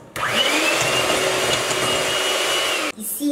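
An electric mixer whirs steadily for about three seconds, quickly blending pandan juice with vegetable oil, starting and stopping abruptly with a loud, even motor drone.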